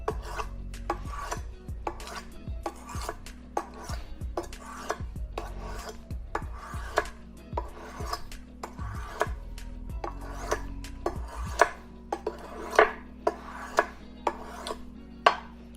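Cheap one-dollar kitchen knife drawn across an oiled whetstone, repeated close scraping strokes in a steady back-and-forth rhythm, growing slightly sharper and louder toward the end.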